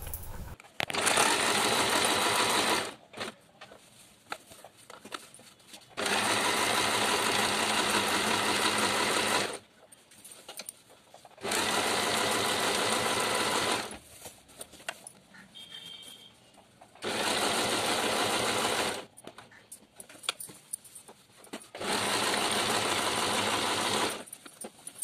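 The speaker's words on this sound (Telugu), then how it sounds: "ఈ హ్యాండ్ చివర నుంచి ఆ హ్యాండ్ చివరి వరకు మొత్తం నీట్గా కుట్టేసుకోవాలి." A sewing machine stitching a gent's half kurta runs in four long steady bursts of rapid mechanical whirring, separated by short pauses with faint handling noises.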